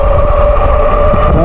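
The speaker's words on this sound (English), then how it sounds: "I'm gonna do the speed test first with throttle only and see how fast I can go on throttle" A folding Goat e-bike is run on throttle only during a speed test, giving a loud, close, steady motor whine with a sustained tonal hum and wind rush throughout, with no talking.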